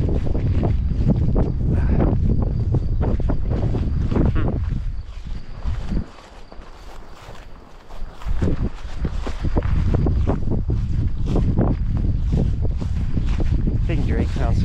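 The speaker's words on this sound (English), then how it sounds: "I think it's too windy." Strong wind buffets the microphone outdoors in spring countryside, a steady loud rushing roar that drops briefly then returns, with a dog moving about nearby.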